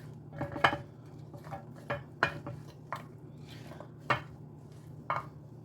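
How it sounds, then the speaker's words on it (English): Vegetables from a Dole roasted vegetable dinner kit tossed with a spatula in a pan with oil and seasoning: a series of about ten short, sharp scraping clatters at an irregular rhythm, close and moderately loud over a low steady hum. "I'm going to just toss them around with a spatula to try to get all of the vegetables coated with the seasoning and the oil"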